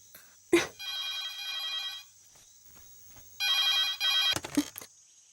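A telephone rings in a movie scene, two bursts of the bell separated by a short pause, loud and close, with a sharp knock or click before each burst.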